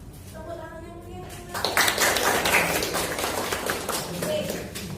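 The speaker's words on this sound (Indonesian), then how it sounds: "Tepuk tangan yang mulia." Audience applause at a classroom physics presentation, a crowd clapping in a dense, steady patter that swells after a brief voice at the start and continues to the end.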